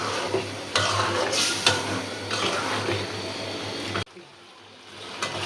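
Baim eel fish stir-frying in a pan for a bhuna curry, a loud continuous sizzle with stirring scrapes and bursts, cutting off abruptly to a quieter hiss near the end.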